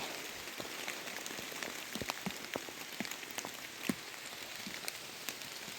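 Steady rain falls on a hard surface, a dense patter with occasional louder drops, continuous and close throughout.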